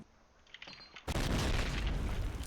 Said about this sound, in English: Yeah, nades into ruins. All the ruins naded